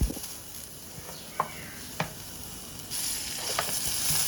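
Garlic frying in oil over medium heat, with a soft steady sizzle and a few scraping strokes of a spoon, the sizzle growing louder toward the end.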